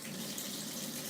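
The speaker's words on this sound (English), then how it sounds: "So we're going to water this thing." Water from a tap or hose pours steadily onto a plant in a continuous, even hiss, faint and unbroken, with no voices.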